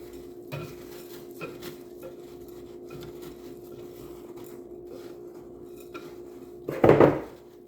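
Oatmeal cream pie ingredients whisked together in a bowl, with soft intermittent taps and scrapes over a low steady hum, ending in a louder burst of clattering near the close, nearby, with no speech.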